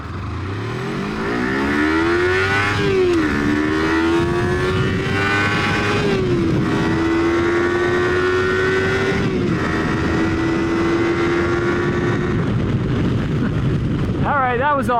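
A Kawasaki Versys X 300 motorcycle accelerates hard uphill in second gear, its engine whining up steadily toward red line with a brief dip at a shift, loud and close, with wind noise throughout.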